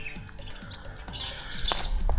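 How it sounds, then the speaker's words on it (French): Small birds chirp and tweet outdoors in a tree near a roundabout, short bright calls repeating irregularly over low street and traffic rumble, growing somewhat louder toward the end. "il y avait le bruit des oiseaux"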